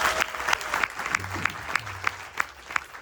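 Applause from a ceremony audience comes through as a thin, scattered round of individual claps, some sharp and distinct, at moderate distance with faint murmuring beneath.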